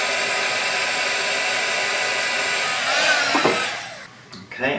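A heat tool on its low setting warming resist paste gives a steady, loud, close whooshing blower roar that runs continuously, then cuts off near the end with some brief handling noise.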